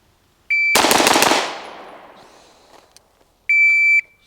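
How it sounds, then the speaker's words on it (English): Four rapid pistol shots from a Bul Armory EDC Pro, fired in a tight, fast burst and followed by a fading echo, with a shot-timer beep sounding just before and after. "We're gonna go super fast with 4 shots, and we'll actually count them to see how fast we're going."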